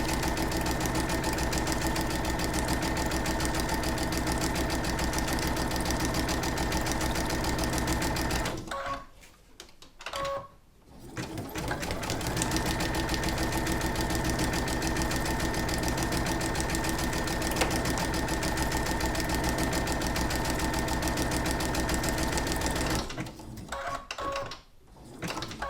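Sewing machine stitching onto paper cards: a steady, fast mechanical whirring hum running close and loud, stopping briefly twice, then resuming before a final short pause.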